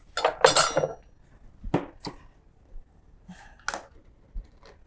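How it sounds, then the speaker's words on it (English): A spoon scraping and clinking in a bowl of peanuts while preparing a blender smoothie, several sharp metallic taps spaced irregularly, close and otherwise quiet. "I'll need a spoon to take a small piece of the peanuts"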